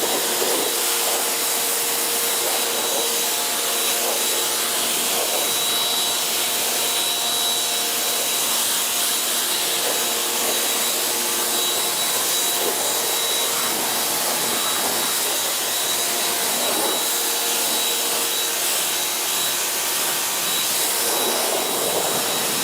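A pressure washer blasts water over a 2006 BMW Z4 Coupe, a loud, continuous hissing roar with a faint high whine, running steadily with small fluctuations as the spray moves across the car.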